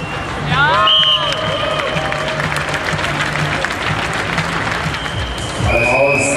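Spectators applaud at a beach volleyball tournament on the Smart Beach Tour 2006, a steady wash of crowd clapping with some cheering, overlaid by electronic tones and music-like pitched sounds from the venue.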